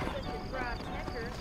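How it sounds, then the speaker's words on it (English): Horse hooves clip-clop steadily at close range in the Red Dead Redemption game, a continuous rhythmic patter under faint whinny-like tones and game ambience, with no voices over it. "Oh, that is a horse."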